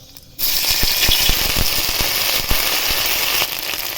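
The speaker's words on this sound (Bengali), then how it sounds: "এবার ওই তেলের মধ্যে দিয়ে দেব 5 ফোড়ন, আদা কাঁচা লঙ্কা বাটা" Panch phoron and ginger-green chili paste hit hot oil with a sudden loud sizzle that starts abruptly and then crackles and spits steadily at close range, popping here and there, with no voices.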